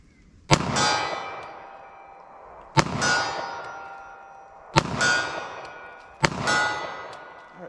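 A .40 Smith & Wesson handgun is fired at a target 40 yards away: four sharp, loud reports spaced about two seconds apart, each followed by a bright ringing tail that fades before the next shot.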